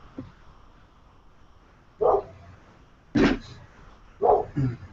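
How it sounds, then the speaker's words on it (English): A dog barks four times at irregular intervals, each a short, fairly loud bark in a quiet setting, with a faint low murmur between them. "There's a dog barking."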